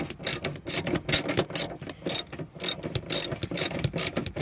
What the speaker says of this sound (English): let's hook up our 14 mil again, put it on our ratchet